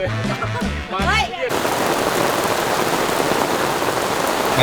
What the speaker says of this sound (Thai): ฝนตกอีกแล้วนะคะ